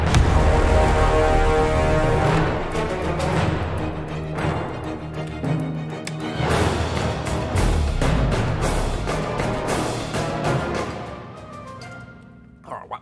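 A full orchestral passage swells and pulses, horns and low strings carrying the harmony while woodwinds add lighter lines, fading near the end.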